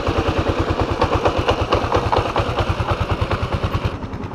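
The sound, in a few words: motorcycle engine running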